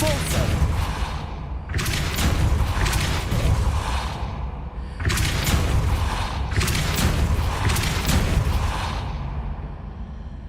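Depulso force spell cast in Hogwarts Legacy, two loud booming magical bursts with rushing whooshes, each swelling and fading over a few seconds, with brief shouted words between them.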